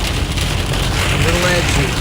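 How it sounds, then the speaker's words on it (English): Hail falls at the edge of a tornado storm in the Nebraska Panhandle, a dense, steady rattling hiss close to the microphone with wind noise and a faint voice underneath. "Getting a little hail on the edge here."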